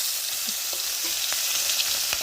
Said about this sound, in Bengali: মাছগুলো আমি আর এক পিস করে উল্টিয়ে ভালো করে ভেজে নেবো